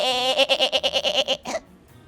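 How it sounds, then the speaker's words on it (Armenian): A single loud, close goat bleat with a fast, wavering tremble, lasting about a second and a half before fading out. "այծ,"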